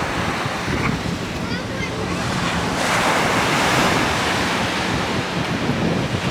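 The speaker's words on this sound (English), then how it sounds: "listening to the calmness of the waves crashing" Ocean waves crash on a beach in a continuous, broad rushing wash that swells slightly partway through. Gusts of wind buffet the microphone over the surf, and no voices are heard.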